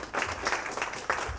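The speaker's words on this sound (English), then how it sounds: "a big round of applause for the panel for being so great" An audience applauding a panel of alumni speakers at a photography and film event, a brief burst of continuous clapping heard from a moderate distance with a few louder individual claps.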